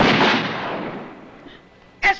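A single loud gunshot-like bang fired inside a house, its broadband burst slowly decaying over about two seconds, followed by a second short, sharp crack near the end.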